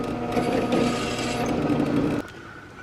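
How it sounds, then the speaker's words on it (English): A drill press cuts slowly through material with a steady grinding, rasping whir, loud and close, until the cutting noise drops off abruptly near the end. "This is as slow as I can cut. That's as slow as my drill press goes."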